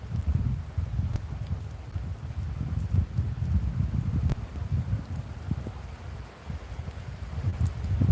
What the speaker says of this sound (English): So far we just got some light rain.